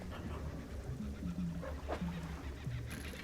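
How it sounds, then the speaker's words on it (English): A dog barks and whimpers faintly in the distance inside the fishing game DREDGE, short yips rising above a steady low ambient drone and lapping water. "I swear I hear a dog."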